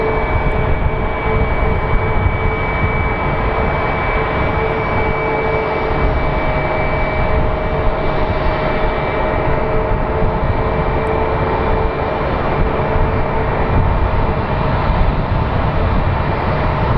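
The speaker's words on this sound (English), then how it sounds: "Looks like we have another Boeing 737 MAX landing." Steady, loud roar of a Boeing 737 MAX jet landing at Sky Harbor International Airport in Phoenix, a continuous broadband engine rush with faint tonal whine, holding evenly throughout without talk.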